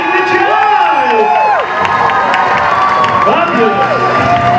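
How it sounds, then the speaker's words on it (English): A lively crowd cheers, whoops and applauds for the first couple taking the stage at a university Strictly-style ballroom dance show, loud and continuous with scattered shouts and whistles rising above the clapping. "big round of applause for the first couple on stage"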